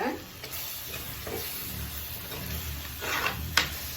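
Spices sauté in a pan: ground turmeric, coriander and fennel powder tossed in hot oil, giving a steady close sizzle with scraping stir strokes and a few sharper utensil knocks toward the end.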